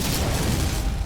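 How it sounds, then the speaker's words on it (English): A grenade launcher blast in a video game, heard as a dense, loud low rumble that fills the whole moment without a break. "We'll shoot some grenades."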